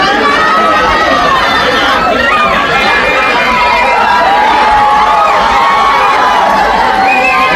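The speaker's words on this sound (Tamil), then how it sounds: "கோயிலுக்கு வெளியே காத்திருந்தவர்கள் பவன் கல்யாணை கண்டதும் ஆரவாரம் செய்தனர்." Crowd cheering outside a temple on seeing Pawan Kalyan, a loud, continuous din of shouts and excited chatter from many people close by, with no pause from start to finish.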